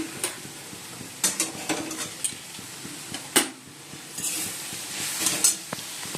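Saag greens cook and are stirred in a pan, with a soft steady sizzle, scraping strokes and occasional sharp clinks of a utensil against the metal, close up and with no talking.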